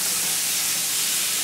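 Butter sizzles in a frying pan for a bistec, a steady close hiss with no other sounds.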